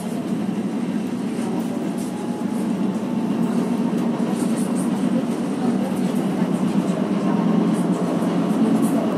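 Steady rumbling ride noise of a tram in Geneva in motion, a continuous low drone with faint rattles, close and even throughout.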